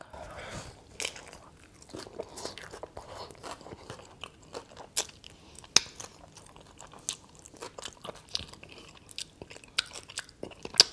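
Crunchy super nachos being bitten and chewed up close in a mukbang, with repeated sharp crunches and chewing sounds at an uneven rhythm throughout, no talking.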